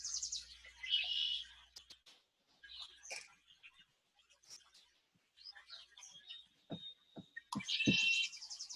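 A bird calls outside in scattered bursts of chirps and trills, soft to moderately loud, with a steady whistled note and a louder trill closing it out; no talking.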